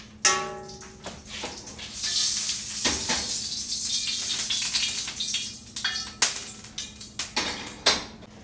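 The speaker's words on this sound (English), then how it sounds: "we're going to sear the vegetables and we are going to sear the meat." Vegetables sear in a hot cast iron pan, making a loud, continuous sizzling hiss broken by sharp clatters and bursts as the food is moved around.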